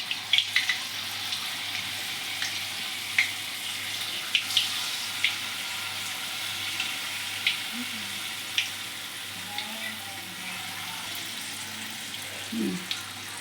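Palm fritters (taler bora) fry in hot oil with a steady, soft sizzle and scattered small pops and crackles throughout.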